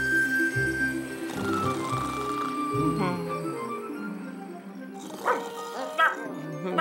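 Cartoon dog barking and yipping in short bursts, with whimpering sounds, mixed with music and other cartoon sound effects.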